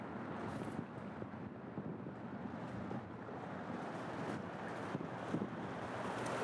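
Wind buffets the microphone while fly fishing for pink salmon on open water, a constant rushing roar with gusty swells, moderately faint and with no voices.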